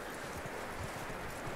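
Horse hooves clip-clop at a steady walking rhythm in the video game Red Dead Redemption 2, soft and fairly distant under a constant background hiss, with no talk.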